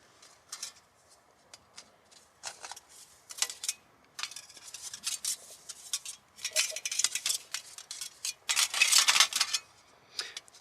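Thin metal parts of a Stormin cone stove are slotted together, giving a series of light, close clicks, scrapes and clinks in irregular bursts, quiet overall with no talk.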